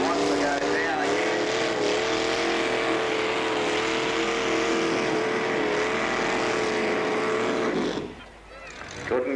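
A tractor engine strains under load at a 1986 country tractor pull, a loud, steady droning roar held for about eight seconds before it suddenly drops away. A commentator talks over it.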